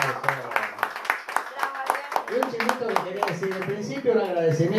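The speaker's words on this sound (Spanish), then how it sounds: "Fuerte aplauso." An audience claps in a burst of applause, with dense, rapid handclaps close by, while a voice speaks over the end.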